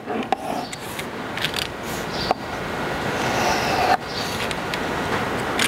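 Single-bevel hunting broadhead blade drawn lightly over a sharpening surface to take off the burr, a continuous close scraping rasp with a few sharp clicks marking each new pass.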